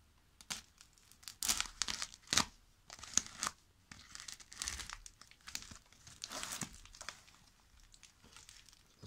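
A parcel wrapped in several layers of tape is torn open, with repeated sharp crinkling and ripping bursts of tape and packaging at irregular intervals, fairly close and quiet, with no talk.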